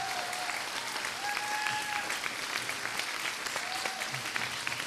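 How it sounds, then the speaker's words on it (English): An audience at a school variety show claps in steady, dense applause that carries on loud and even throughout, with a few faint whistles over it. "Let's give them a round of applause, all the Year 11s who've left."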